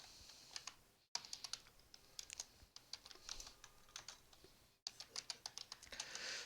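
Fingers typing on a computer keyboard, with quick bursts of crisp key clicks separated by short pauses, close and fairly quiet with no talking.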